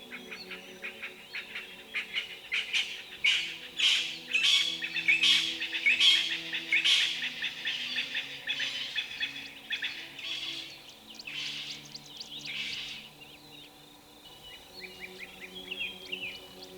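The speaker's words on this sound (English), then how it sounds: "I was surprised to see this small flock of quailfinch on the H6" A small flock of quailfinches calls in Kruger National Park, thin high chirps and tweets coming in a busy cluster through the middle of the stretch, fairly near, then thinning out over a low steady background rumble.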